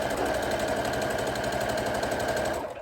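Sewing machine running a continuous, steady stitch along a seam of a viscose midi dress with pleats at the neckline, loud and close, a fast even mechanical chatter that cuts off at the end.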